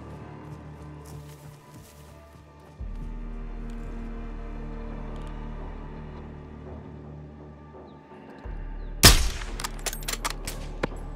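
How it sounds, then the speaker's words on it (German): A single loud, sharp sniper rifle shot near the end of a Call of Duty: Modern Warfare II mission, after a long stretch of low ambient hum and quiet game atmosphere. "Verdammt guter Schuss."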